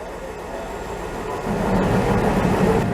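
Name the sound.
ÖBB train arriving at Vienna station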